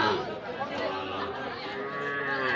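A Sahiwal bull at a cattle market moos amid steady crowd chatter, its low call rising out of the busy, close market din.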